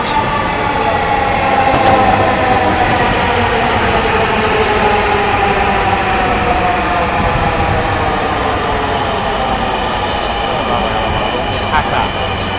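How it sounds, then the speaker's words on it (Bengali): An intercity train pulls into a busy station with a loud, continuous rumble and rattle of wagons rolling close by, which stays steady throughout, while people talk nearby. "এসে দেখুন বন্ধুরা, অন্তর্বর্তী ট্রেন চলে এসেছে।"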